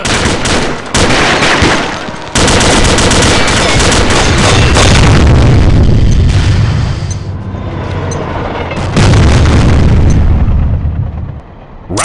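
Explosions and heavy gunfire fill a round of the video game Combat Arms, with loud booming blasts and rapid shots that roll almost continuously and swell to deep rumbling peaks.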